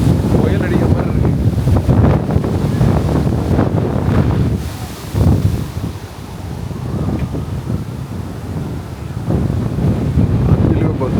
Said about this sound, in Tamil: கடுமையான காற்று அடிக்குது, ஒன்றுமே செய்ய முடியாது.